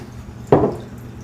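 Usnea tincture strained through cheesecloth gives a single brief, close wet squish or splash in an otherwise quiet moment.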